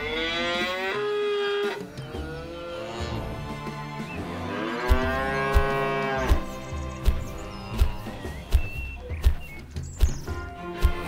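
Cattle lowing in a farm diorama scene, a long drawn-out moo with rising and falling pitch, followed by a series of regular thumping steps or knocks, fairly close and loud with no talk.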